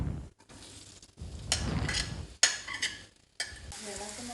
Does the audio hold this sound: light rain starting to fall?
no